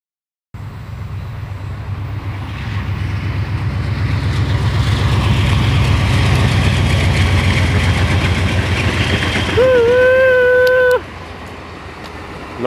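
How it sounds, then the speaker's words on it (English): An Amtrak Northeast Regional passenger train rumbles past outdoors, a loud, steady low roar building over several seconds, then a brief horn-like tone near the end before it cuts off. "Northeast Regional Amtrak. That's the 4 o'clock train, but it's not 4 o'clock, it's 3:35."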